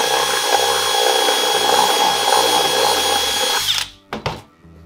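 A 3/8-inch pilot bit drills into a mini bike gas tank for a Unitank install, a loud steady power-drill whine for nearly four seconds that cuts off abruptly, followed by a couple of short bursts.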